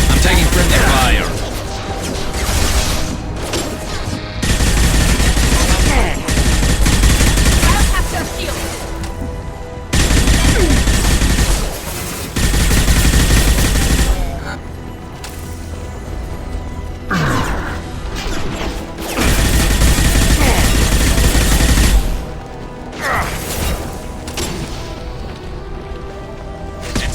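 Mass Effect 2 combat: heavy, continuous gunfire and rapid bursts with crashing impacts fill the whole stretch, loud and close, while voices talk over the shooting.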